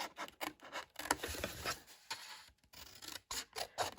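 Scissors cut up along the score lines of a folded paper box, a series of close, quiet rasping snips with brief gaps between strokes.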